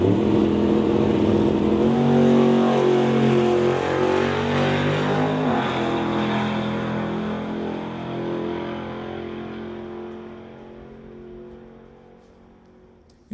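Brian Heffel's Vega drag race car roars down the strip on a testing run, a loud, sustained engine howl that holds strong and then fades gradually into the distance.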